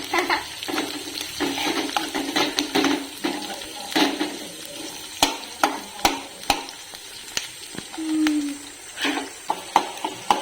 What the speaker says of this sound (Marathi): कांद्याला छान शिजवून घ्यायचं.